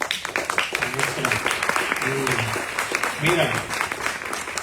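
Applause from an audience after a poetry reading at a conversation about poems and poetry, a rustling spread of claps that runs beneath a person speaking in Spanish.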